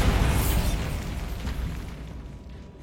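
A Bombarda blasting spell going off in a Harry Potter video game set in a decayed catacomb: a loud, broad rumbling explosion with a bright burst at the start that fades into a lingering boom over about three seconds.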